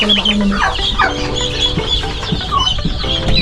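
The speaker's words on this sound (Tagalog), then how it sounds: "mayroon akong sisiw na ibinukod dito" Chickens in a farmyard clucking loudly and continuously close by, with a possible crow mixed into the busy flock chatter.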